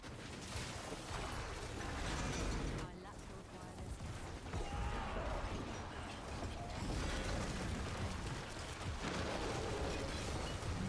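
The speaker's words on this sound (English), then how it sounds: "Luckily I can send the corpse explosion in from anywhere I want." Repeated corpse explosions in Diablo 4 from a necromancer build, a dense wash of booming blasts and crunching bursts that rolls on without pause, with a few brief dips between waves.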